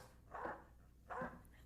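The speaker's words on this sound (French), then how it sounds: "avec ses aboiements, Madame Nina est vraiment nerveuse" A dog barking nervously indoors, two faint, muffled barks about three quarters of a second apart, alone with no talk.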